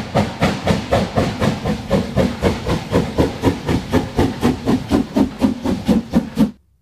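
A red toy steam train runs with a loud, steady chuffing rhythm of quick regular puffs and hiss, with no voices, then stops abruptly near the end.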